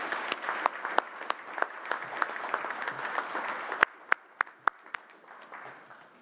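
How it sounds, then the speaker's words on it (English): Audience at an annual town meeting applauding someone's selection, a sustained round of clapping with a few loud, distinct nearby claps standing out before it fades. "give Greg a big round of applause for being selected."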